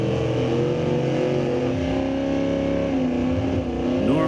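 Super stock Camaro at a drag racing event, engine roaring loud and sustained as it pulls down the strip, pitch shifting through gear changes with a second car audible alongside.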